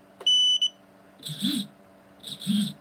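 The beeper on a micro quadcopter gives one short, shrill electronic tone, followed by faint mechanical sounds on a quiet bench.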